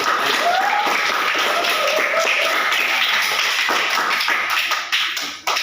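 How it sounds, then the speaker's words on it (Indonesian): Classroom applause breaks out as a group of students claps together for everyone. It is a steady, dense patter of fast hand claps that thins out near the end. "beri tepuk tangan untuk semuanya"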